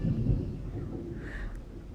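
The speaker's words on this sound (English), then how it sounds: "It's thundering outside if you can hear it." A low rumble of thunder outside during a storm, a soft, distant roll that swells early and slowly fades, with nothing else prominent over it.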